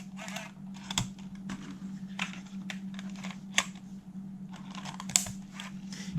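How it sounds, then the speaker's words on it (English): A cassette tape is loaded into a Sony TCD-D8 portable DAT recorder, giving a run of sharp plastic clicks and mechanical clunks over a steady low motor hum, close and fairly quiet, with no talking. "let's put a tape in"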